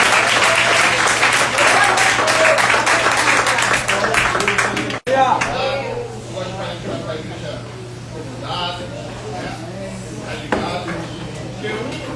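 Congregation applauding at a church festival service, a dense, loud burst of clapping for about five seconds that cuts off abruptly, followed by quieter room noise with a voice speaking.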